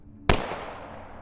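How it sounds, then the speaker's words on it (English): A single sharp gunshot cracks out of near silence, loud and close, then trails off in a long fading echo. "you hear a lone gunshot"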